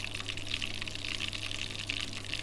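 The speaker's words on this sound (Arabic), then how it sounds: "بصي انا بعوص ايدي ميه كده اهي" Running tap water splashes over hands as they are wetted in a home kitchen while stuffing bulgur and meat dough, a steady continuous pour and trickle close by with no talk.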